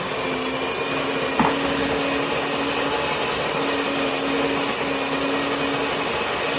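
An electric grain mill grinds clean wheat berries into fresh flour, giving a steady, even motor whir with a coarse grinding hiss that holds unbroken throughout, close and moderately loud.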